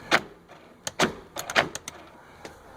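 A 2003 Dodge Grand Caravan driver's-side door lock actuator operating: a series of short mechanical clunks and whirs, a few sharp actuations spaced irregularly, close and fairly quiet, with no talking.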